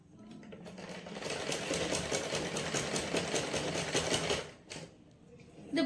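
A sewing machine runs in a steady, fast, rhythmic stitching burst while sewing a sleeveless kids' frock. It is close and fairly loud, then stops with a brief pause and a few clicks near the end.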